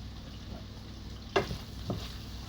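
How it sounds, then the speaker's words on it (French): Onions frying in a pan for tartiflette give a soft, steady sizzle, broken by two brief scrapes as a utensil stirs them. "On mélange nos oignons pour que ça ne crame pas"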